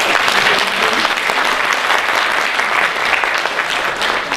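Loud, dense applause from a large audience at a Yörük Türkmen cultural festival and assembly in Eskişehir, continuous and even clapping that fills the room without pause.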